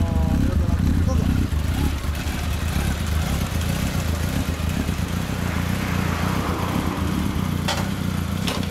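A 2012 Honda CB1300 Super Four with a Wyvern aftermarket exhaust idles steadily up close, its low even rumble running under men chatting nearby.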